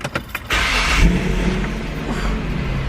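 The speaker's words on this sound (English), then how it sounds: "Listen to this engine because I got a beast of a car." After a few clicks, a car engine starts and revs up loudly, then settles into a deep, rumbling idle close by.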